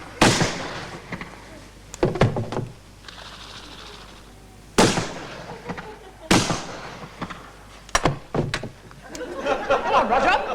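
Gunshots ring out in a scene from a period comedy set in the British Raj. Several sharp, loud cracks come at irregular intervals, with quieter ambient sounds between them.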